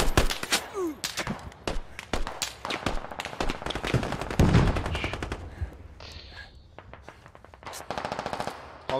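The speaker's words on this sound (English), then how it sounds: "Taking shots." Gunfire in a tactical shooter game with grenadiers and mortars rattles out in rapid automatic bursts and scattered single shots, some loud and near, others fainter and distant, continuing almost without pause.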